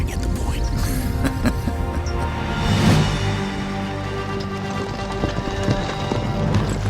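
A large herd of horses gallops through the night, a loud, continuous rumble of overlapping hoofbeats that swells briefly near the middle and carries on without pause.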